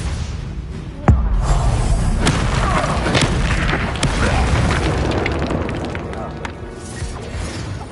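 A Confringo fire-blast spell from Hogwarts Legacy goes off as a sharp, loud boom early on, followed by a dense rumble of combat effects and crackling bursts, with a voice calling out over the din.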